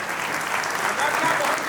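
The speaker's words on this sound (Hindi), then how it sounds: "तालियां जोरदार बजाएं।" An audience at a Hindi poetry gathering (kavi sammelan) in Takhatpur, Bilaspur claps loudly and steadily, a dense sustained applause from a crowd with a few voices mixed in.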